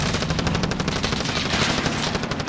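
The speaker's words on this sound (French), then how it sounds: "Deuxième coup de sniper." Gunfire in a battle royale video game, with a sniper rifle among the weapons, rings out as a loud, dense burst of rapid cracks filling the whole moment, close and with no voices over it.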